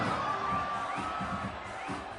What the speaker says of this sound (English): the sounds of spectators screaming as you hurl bowling balls towards the crowd instead of down in the lane is hysterical